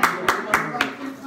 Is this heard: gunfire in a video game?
no